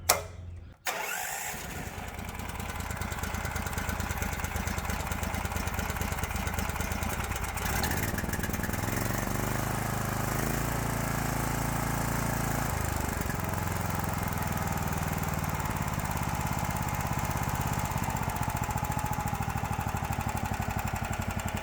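A Predator 420cc Hemi small engine with a servo-driven throttle cranks, catches and runs loud and close, its steady mid-pitched rumble shifting in speed as the throttle is raised and lowered.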